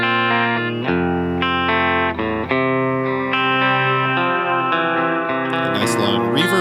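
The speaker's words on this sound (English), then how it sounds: "Nice long reverb going in there." Sustained guitar loop run through a Strymon NightSky reverb pedal, layered tones with long, shimmering reverb tails and modulated washes blending continuously, loud and without speech.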